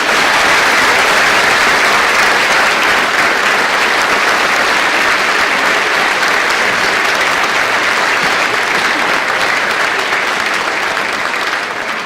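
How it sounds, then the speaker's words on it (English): A school awards program audience gives a speaker a long, steady round of applause, dense, loud clapping that fills the hall and holds evenly for about twelve seconds, tapering only slightly at the end. "she deserves the biggest round of applause you can manage"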